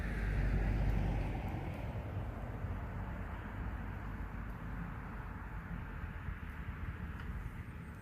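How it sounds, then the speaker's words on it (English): Traffic rolls past outside a moving Audi e-tron 55: a broad, continuous roar of cars on the roadway, loudest at the start and then easing to a steady wash. "Man, those cars are kind of noisy."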